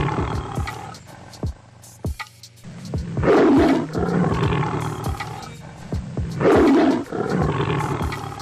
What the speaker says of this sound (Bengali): এখানে কিন্তু বিশাল বড় একটি বাঘ চলে আসলো একটি ছাগলের খামার।